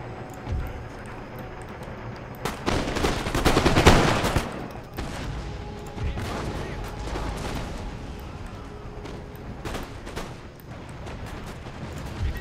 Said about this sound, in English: You guys fire canister shot.